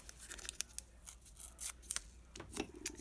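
Masking tape being pulled off the roll and torn for edging a DIY storage box with drawers, a quick series of short crisp ripping and crackling bursts, faint and close.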